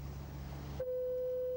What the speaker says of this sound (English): as you can hear, the foghorn operates continuously.